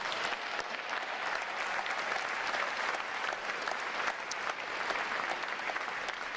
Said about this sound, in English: let's give a round of applause to the RTC staff